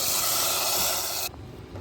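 Bottle gourd greens drop into cooking lentils with a loud, steady sizzling hiss that cuts off abruptly, leaving a quieter simmer.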